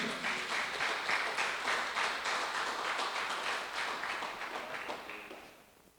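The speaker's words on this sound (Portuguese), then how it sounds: "Você pode dar um aplauso ao Senhor aí?" A church congregation claps together in a lively, dense burst that holds steady and then thins out and fades toward the end, heard at a moderate distance without speech.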